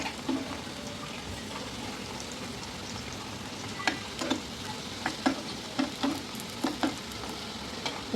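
Lentil-and-onion piyaju fritters fry in oil with a steady low sizzle, while soft spatula knocks and scrapes come at irregular intervals as each fritter is turned over.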